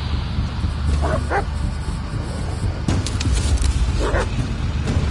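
Dog in the Blair Witch horror game barking and yelping, a few short high barks and whimpers over low ambient rumble and game noise, with no talk.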